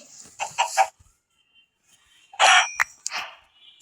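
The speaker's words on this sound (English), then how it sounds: "ও আমি মুরগি মেরে ফেলছি।" Chicken clucking in a launcher video game, in two loud bursts of squawking clucks separated by a short quiet gap.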